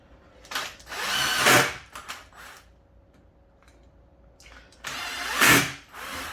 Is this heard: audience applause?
no